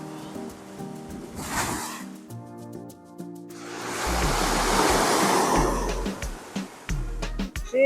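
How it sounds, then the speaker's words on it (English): Ocean surf washing onto a beach on an early morning walk, broad rushing waves rising and falling steadily with a low roar, near and fairly loud, no talk. "She's a beautiful sea."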